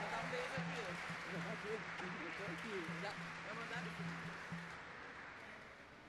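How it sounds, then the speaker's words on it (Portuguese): Applause for a deputy at a solemn legislative session marking the Day of Black Latin American and Caribbean Women, a steady roomful of clapping that carries on throughout and slowly fades near the end. "uma salva de palmas à nobre deputada"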